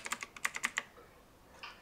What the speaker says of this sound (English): the keyboard clicks are cracked